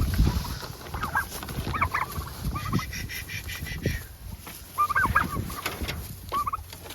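Wild turkeys gobble in short bursts outdoors, fairly faint and at a middle distance, with scattered rustling and background noise between the calls.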